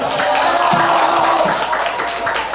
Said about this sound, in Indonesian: Tepuk tangan buat kelas 7E dong, tepuk tangan.